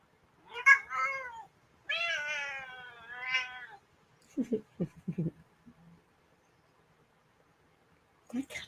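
A cat meows several times, close and fairly clear, in drawn-out wavering cries over the first few seconds, followed by a person talking quietly and a short sound near the end.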